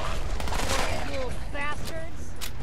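Gunfire from a gun in Fallout 4, dense rapid shots blending with game sounds and a speaking voice throughout, loud and close.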